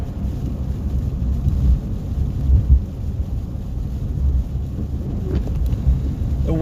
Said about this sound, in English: The wind is honestly slacking down a little bit